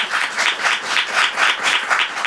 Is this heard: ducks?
no